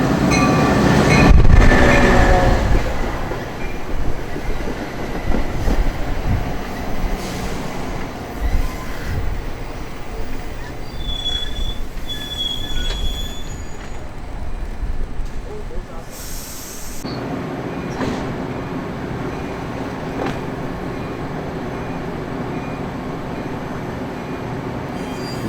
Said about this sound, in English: An approaching metro train makes our camera shake as it comes to a stop.